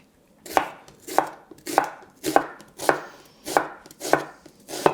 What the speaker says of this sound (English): So I'm just going to cut the onion